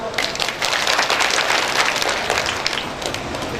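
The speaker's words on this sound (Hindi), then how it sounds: "ताली बजा के बताओ।" An audience at a Hindu religious discourse breaks into loud, dense applause, many hands clapping together in a sustained burst that softens slightly toward the end.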